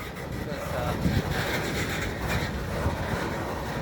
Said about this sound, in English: Brake shoes are pressing against the wheels.